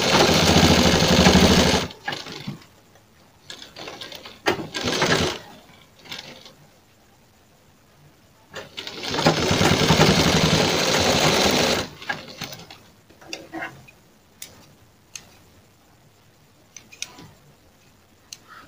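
A sewing machine stitching a blouse neck, running in loud steady bursts of about two to three seconds, separated by quieter stretches of ticks, clicks and handling noise.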